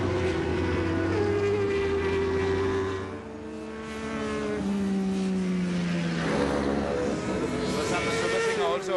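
Ducati 999 racing motorcycles at a Sri Lankan track event, engines whining and shifting pitch as the bikes pass, loud and continuous throughout.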